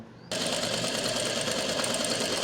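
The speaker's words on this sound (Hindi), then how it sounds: "यहाँ से आपने दोनों तरफ ऐसे सिलाई लगा देनी है।" An electric sewing machine stitches a pocket on palazzo pants, starting abruptly and then running in a fast, steady close whir without pause.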